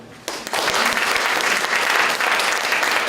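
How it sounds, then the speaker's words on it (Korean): An audience at a Korean club membership seminar bursts into loud applause, dense sustained clapping that starts abruptly and continues strongly to the end. "다시 한번 뜨거운 박수"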